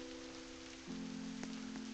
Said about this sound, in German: Oh nö, es regnet.